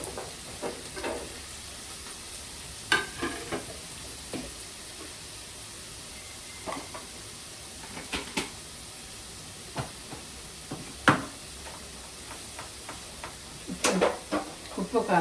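Chopped onion and drumstick pieces fry in a pan with a low sizzle, broken by repeated sharp clatters and scrapes from stirring.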